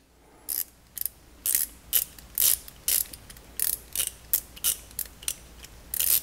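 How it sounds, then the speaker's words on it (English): Two quarter-inch flex-head mini ratchets, a VIM and an ICON, click steadily in close succession, with about a dozen crisp, bright ratcheting bursts heard close up and alone. "when you listen to the ratcheting on the two of these"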